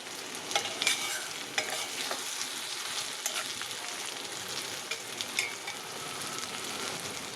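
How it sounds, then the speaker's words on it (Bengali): Taro stolons stir-fry in oil with onion, garlic and dry chili, giving a soft, steady crackling sizzle with intermittent spatula scrapes and light clinks, fairly close and unaccompanied by voices. "পুরো ভাজা ভাজা হয়ে গেছে। একটু বেশি তেল লাগে।"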